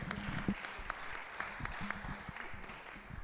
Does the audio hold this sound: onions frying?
no